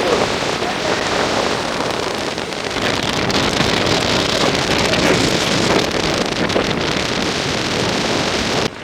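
Strong winds of Cyclone Ditwah in Jaffna roar without a break, a dense, loud rush that buffets the microphone for the whole stretch.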